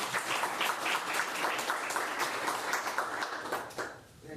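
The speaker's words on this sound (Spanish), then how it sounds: "¿Podemos aplaudir?" Audience at a book presentation claps steadily for a few seconds, a moderately close round of applause that tapers off at the end.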